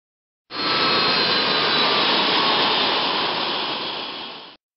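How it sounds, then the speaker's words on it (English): The left jet engine of a Boeing 767 shuts down: a steady, broad rushing roar begins abruptly, holds, then tapers slightly before cutting off, with silence on either side. "Let's shut down the left engine."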